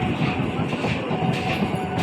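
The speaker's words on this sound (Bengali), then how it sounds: "ওদিক দিয়ে আর একটা ট্রেন যাচ্ছে" A train rumbles past steadily, a dense continuous roar with faint rail clatter, close and loud for the whole stretch, heard on a busy day near a market.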